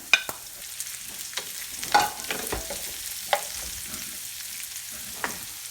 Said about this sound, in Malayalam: ഇനി ഞാൻ അതിലേക്ക് ഒരു വലിയ സവോള നീളത്തിൽ അരിഞ്ഞത് ചേർത്ത് കൊടുക്കുകയാണ്.